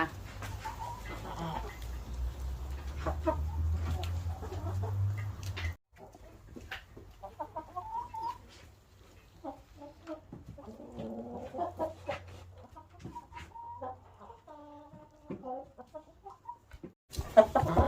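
Rhode Island Red chickens cluck and murmur softly in a yard, scattered calls coming and going over a low hum that stops partway through.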